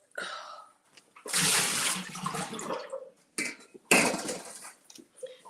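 Water poured out of a bowl in a kitchen while making barbecue spring rolls, two close splashing gushes with brief trickles and drips between them.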